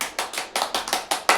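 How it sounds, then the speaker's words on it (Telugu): Hands clap in a quick, steady rhythm at home, about eight crisp, close claps in under two seconds, with no voices. "క్లాప్స్ కొట్టండి"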